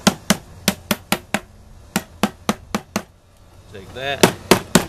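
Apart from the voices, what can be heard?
old screwdriver tapping paint can covers back on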